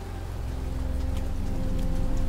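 Steady rain falls on a city, a dense even hiss of drops on hard surfaces that swells slightly louder over its length, with a low background rumble and no voices.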